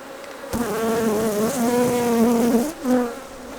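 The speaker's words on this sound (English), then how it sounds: "So that's our first frame of brood." Honey bees buzzing close up as hive frames of brood are lifted and inspected, a dense, loud droning hum with wavering pitch that swells and dips briefly.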